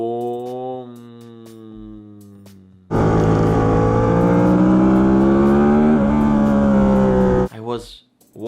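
A racing motorbike revs at full throttle on a track, a loud close engine roar that bursts in abruptly and holds a rising, strained pitch for several seconds before cutting off, following a quieter idle-like drone.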